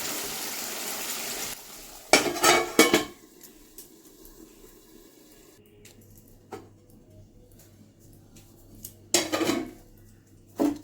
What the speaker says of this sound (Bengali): আমি এখন একটু ঢাকা দিয়ে রাখি।